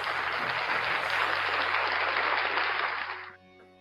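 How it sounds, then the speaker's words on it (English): A live indoor audience gives a steady round of clapping for a guest, dense and even throughout before cutting off abruptly near the end, with no talk over it. "another round of applause for Tone over here"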